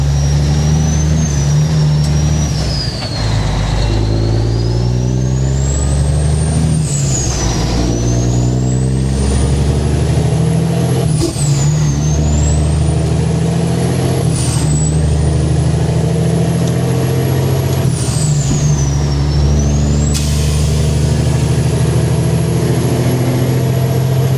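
Cars and trucks pass by on a road, loud and near, with a steady engine roar and repeated rising and falling whines as vehicles go past, no talking.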